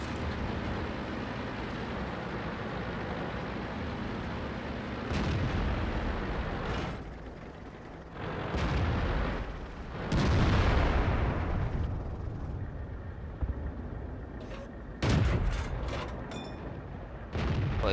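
Tank cannon fire and explosions in the online game World of Tanks, a series of heavy booms and blasts over a constant rumbling engine drone, with several sharp loud hits standing out near the end.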